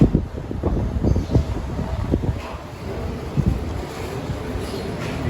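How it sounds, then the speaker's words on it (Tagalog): Strong wind buffets an outdoor pigeon loft and aviary, producing a continuous rough rumble with gusty thumps that are loudest at the start and then settle into a steady roar. "malakas ang hangin"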